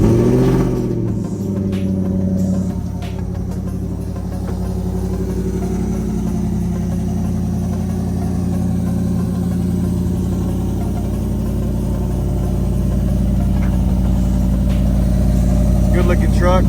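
Tuned 2022 Ford F150 truck engine cold-starting, a loud, steady low rumble that holds near and close throughout with a slight rise in level toward the end, while someone talks over it.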